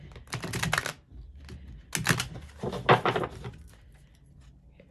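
A stiff, rigid new deck of playing cards being shuffled, with three bursts of crisp riffling and snapping, fairly close and loud, separated by short pauses.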